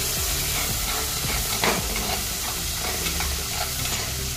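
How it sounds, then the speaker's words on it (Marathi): Peanuts and chana dal frying in hot oil for South Indian lemon rice, giving a steady, loud, dense sizzle with a few faint stirring scrapes, close up and without speech. "आता यात शेंगदाणे आणि हरभरा डाळ ही देखील मी सोडत आहे."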